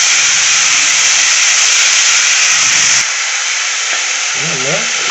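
Lentils sautéing in a hot pan for mutton kheema, a loud, steady sizzle and hiss that continues throughout, with some stirring noise partway through and a low voice near the end.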